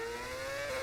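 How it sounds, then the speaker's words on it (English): A ship horn in Monaco harbour heard during a race in an F1 video game career mode, a steady sustained tone over a background of car engine noise. "I hear the I hear the ship horns"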